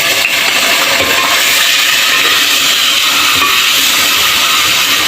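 Ginger garlic paste hits hot oil with golden fried onions in a pan, giving a loud, steady, close sizzle and hiss that holds without a break.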